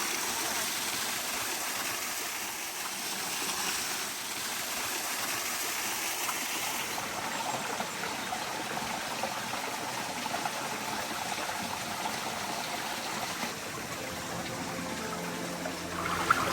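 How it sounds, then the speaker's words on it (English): A waterfall in the Canadian wilderness rushes in a steady, even hiss that fills the whole scene without pause or change. "Beautiful waterfall."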